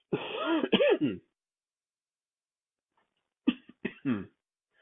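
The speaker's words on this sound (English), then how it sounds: "I'm going to cough here, so excuse me." A person coughs and clears their throat twice, a short burst at the start and another a few seconds later, close and fairly loud with silence between.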